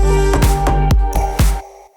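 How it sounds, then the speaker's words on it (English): A mouth pop layered with a tom in a dance track groove, landing as a short percussive pop on the same beat as each hit, several sharp strikes over a steady bass tone before the loop cuts out. "On top of that, the mouth pop"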